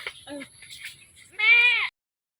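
A goat bleats once, loud and close, with a long wavering call after a few softer voices, on a rain-affected rural farmstead during flooding.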